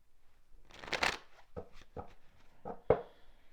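Tarot cards handled and shuffled close up, a soft riffle followed by several separate crisp snaps and taps of cards being laid or squared, with no talking.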